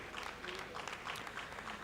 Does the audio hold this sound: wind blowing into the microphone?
no